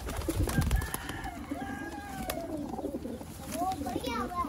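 Several breeder pigeons, Sialkoti teddy kabootar kept for sale, coo in low repeated murmurs close by, with scattered rustling and faint voices in the background.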